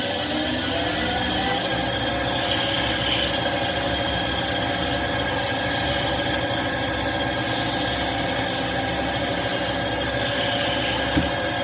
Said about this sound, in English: When you're sanding on the lathe, you always want to be careful of the center